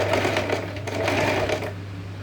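A sewing machine runs in one continuous, close, fairly loud whirring burst while stitching a heavy blouse hanging, with no voices.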